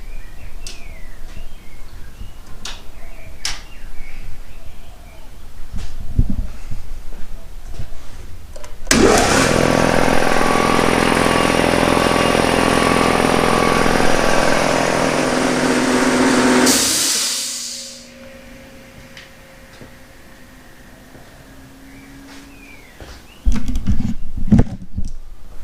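A homemade air compressor starts with a thud and runs as a loud, steady mechanical drone for several seconds while filling its tank, then cuts off, leaving a quiet hiss and scattered clicks in a quiet room.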